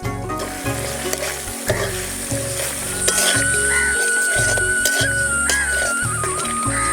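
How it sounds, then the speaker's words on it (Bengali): Tomatoes frying with spices and cashew paste in a pan for a vegetarian potato curry, a steady close sizzle with stirring scrapes throughout. "টমেটো দিয়ে মশলার সঙ্গে ভালো করে ভেজে নিলাম।"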